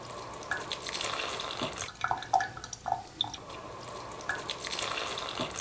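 A bathroom sink tap runs while a houseplant is watered, a steady close stream of water broken by irregular drips, splashes and light handling bumps.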